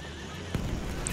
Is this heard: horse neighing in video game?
yes